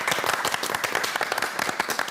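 A studio audience claps in a brisk, dense burst, many hands together at close range, loud and even throughout.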